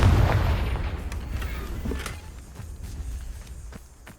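Confringo blasting spell in the Hogwarts Legacy video game, a deep booming blast that opens the clip and rumbles away over several seconds, followed by faint scattered crackles and thuds.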